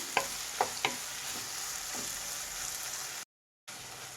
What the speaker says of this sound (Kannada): ಈಗ ಒಂದು 4 ಟೊಮೆಟೊನ ಸಣ್ಣದಾಗಿ ಕಟ್ ಮಾಡಿರೋವಂಥದ್ದು ಹಾಕ್ತಾಯಿದ್ದೀನಿ